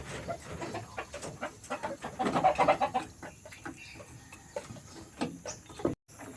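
Several chickens cluck and chatter close by in an irregular flurry, busiest in the middle, with scattered clucks continuing before a brief cut.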